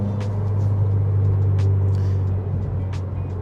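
Interior cabin drone of a 2020 Subaru WRX being driven, with a steady low engine and road rumble and faint rattles, no voices heard.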